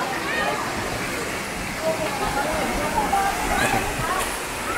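Rushing water of Huai Mae Sai waterfall near Chiang Rai, Thailand pours in a constant broadband roar, with a voice talking faintly over it now and then.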